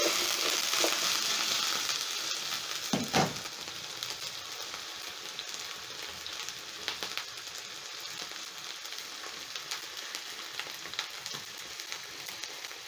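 Breakfast potatoes fry in a pan with a steady, moderately quiet sizzle, broken by a few soft clicks and stirring scrapes, with no talking.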